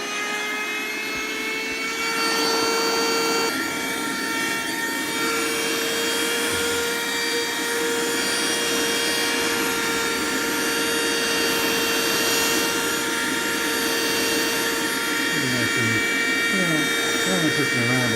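A Bingogous portable rechargeable vacuum cleaner runs steadily with a loud, constant high-pitched motor whine and airflow hiss, while a person talks intermittently over it.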